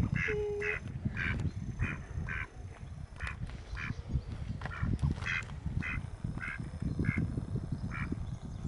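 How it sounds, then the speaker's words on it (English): A duck at a pond quacks repeatedly in a steady series of short nasal calls, mid-distance over a constant outdoor wash of background noise. "This is a duck."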